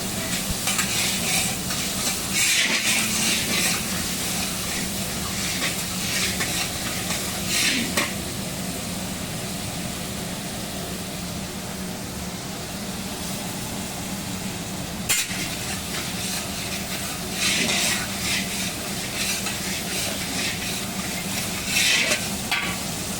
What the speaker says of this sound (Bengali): এবার কড়াইতে মশলাগুলো 4-5 মিনিট নাড়িয়ে চাড়িয়ে